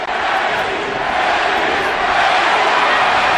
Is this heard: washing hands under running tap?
no